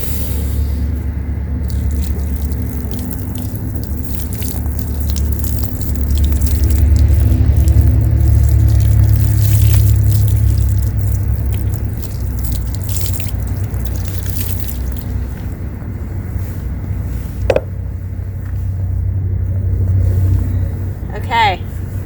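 Water, about six cups, is poured over an oil-waxed canvas rucksack to mimic a rainstorm, a close, steady splashing and dripping running throughout, with a voice speaking now and then over it.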